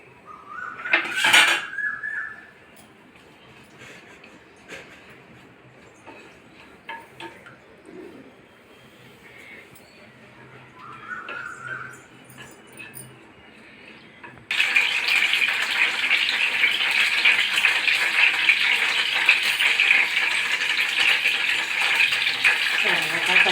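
Curry leaves drop into hot oil in a pan for a Telugu fish curry. Utensil clatter comes first, then a loud, steady sizzle starts suddenly and holds close and continuous to the end.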